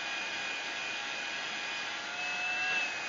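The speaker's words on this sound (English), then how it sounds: "So I've got here a hairdryer." A hairdryer runs on a medium setting, giving a steady, even whooshing blow with no talking.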